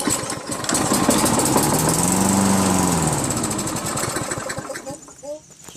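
A Tecumseh 6.5HP engine on a Toro Recycler 22-inch front self-propelled lawn mower runs only on primer with no fuel getting through. It gives a loud, close, chugging roar that holds for a few seconds, then sputters and dies away.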